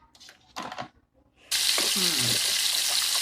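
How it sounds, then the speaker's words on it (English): Oil suddenly erupts into a loud, steady sizzle as fries are dropped in, preceded by a few quiet clinks and handling noises. "This is really good for frying things."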